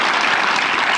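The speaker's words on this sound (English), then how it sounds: "let's all just give a round of applause and congratulations on your book." A dense, steady wash of clapping from a large audience at a university author lecture, loud and continuous throughout.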